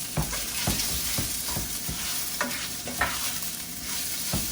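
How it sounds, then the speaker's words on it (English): Sausage sizzles in a hot pan while a utensil breaks it into small pieces, the steady fry hiss punctuated by repeated scraping, stirring knocks close by. "I'm gonna do this kind of number, break it up. I like my sausage in little pieces."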